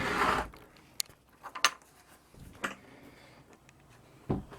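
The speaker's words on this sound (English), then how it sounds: "pick up the hatch" A floor hatch is lifted in the cabin of a Grand Banks 36 boat, giving a few close knocks, clunks and scrapes of wood spaced between quiet pauses.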